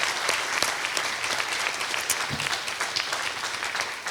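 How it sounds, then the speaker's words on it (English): Audience applause for college trustees at an awards event, a continuous dense patter of clapping from a large room, steady and moderately loud throughout with no speech. "let's give them a round of applause for their great service to the college"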